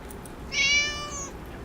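A cat in Neverwinter Nights 2: Storm of Zehir gives a single short, clear meow over a faint background of game ambience.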